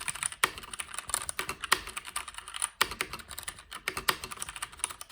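Fingers type on a mechanical keyboard, with spacebar presses giving a tinny click among quick, irregular key taps, close and crisp, with no talk.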